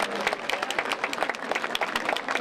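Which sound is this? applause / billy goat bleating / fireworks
applause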